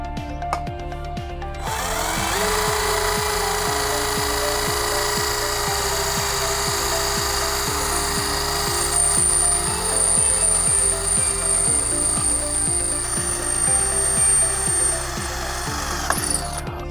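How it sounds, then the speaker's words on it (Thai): A 20-volt cordless drill grinds steadily into 4 mm thick steel box tube, its motor whining with a ratcheting, pulsing rhythm for most of the clip, loud and close, with no talking. "ต่อไปเราเริ่มการเจาะเหล็กกันเลยนะครับ"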